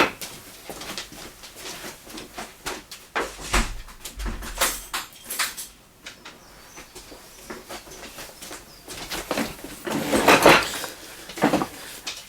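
A dog being let out of the house, with scattered close clatters, a door and brief dog noises, no talk.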